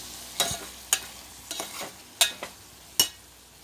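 Tomatoes cooking in hot oil for a potato kurma, with a soft steady sizzle broken by about six sharp scraping stirs of a spoon in the pan, close up and without talking.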